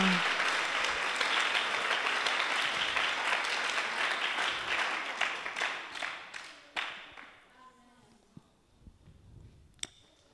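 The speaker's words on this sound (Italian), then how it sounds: "Dai un applauso" A congregation applauds during a bilingual church service, loud sustained clapping from many people that thins out after about seven seconds into scattered, fading claps and a few isolated knocks.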